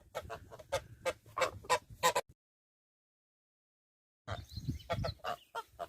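Geese honking and cackling in rapid bursts close by, falling silent for about two seconds before the noisy calls start up again.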